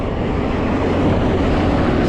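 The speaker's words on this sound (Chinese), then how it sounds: "风有点大，正对着我吹，太难受了" A strong headwind in a winter mountain valley in western Sichuan blows straight at a loaded touring cyclist, making a steady, loud roar of wind buffeting the microphone throughout.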